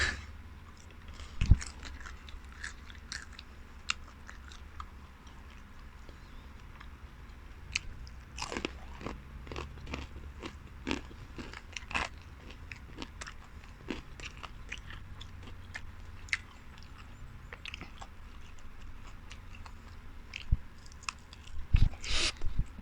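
Fried field rat is chewed close up, with repeated crunchy bites and crackling mastication in an irregular rhythm, loud and near against a low background hum.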